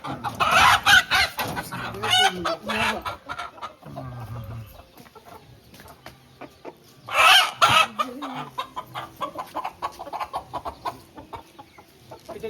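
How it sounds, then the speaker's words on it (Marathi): Village roosters and hens in the Konkan cluck and squawk close by, with loud bursts at the start and again midway, and softer clucking continuing between. "कोंबडो हा ना कोंबडेच सर्व कोंबडे हा"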